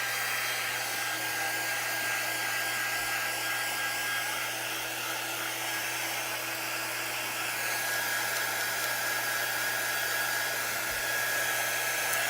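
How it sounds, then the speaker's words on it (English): A handheld quick dry heat tool blows steadily over a wet transfer on a handmade sign, a loud, continuous whirring airflow with a faint high whine running unbroken throughout. "So I'm just going to use the quick dry tool here."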